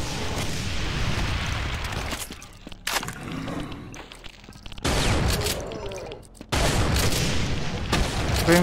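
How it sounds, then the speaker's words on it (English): Grenade blasts in Brutal DOOM, in the Phobos Lab level: several loud booming bursts with crackling debris come in separate waves, with quieter gaps of footsteps and game noise between them. "here, have a grenade."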